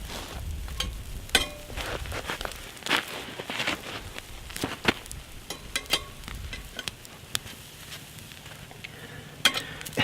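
Buttered bread toasting over open campfire flames, a soft crackling sizzle with irregular pops and small knocks nearby, steady and moderately quiet throughout.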